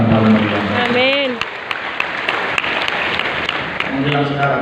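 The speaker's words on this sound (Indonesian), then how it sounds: "Tepuk tangan yang paling meriah." Church congregation clapping during a sermon, a dense patter under a preacher's voice that carries on through the middle, and the speaking returns as the clapping trails off.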